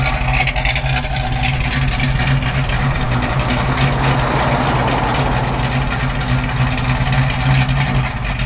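A 1971 Chevrolet Camaro SS engine runs steadily nearby, with a deep, rumbling idle and a faint rise in the middle that sounds like a light rev.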